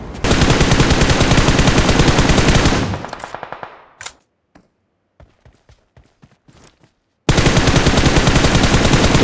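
Sustained rapid automatic gunfire blasts loud and close in the video game BGMI, cuts off into near silence broken by a few scattered single shots, then erupts again into another long, dense burst.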